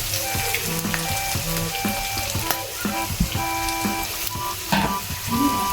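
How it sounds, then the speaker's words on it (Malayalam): Chopped onions fried in hot oil with ginger, garlic and chili, a steady close sizzle broken by clicks and scrapes of stirring, with no talking. "ഇനി നമ്മൾ കൊത്തി അരിഞ്ഞ് വെച്ചിരിക്കുന്ന നമ്മുടെ സവോള ഇട്ട് കൊടുക്കും."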